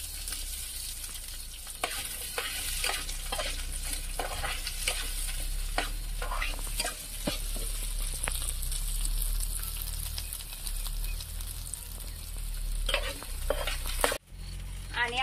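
Onion frying with masala in a pan on a wood-fired stove, a steady close sizzle with repeated scraping stirs throughout and a brief clatter near the end.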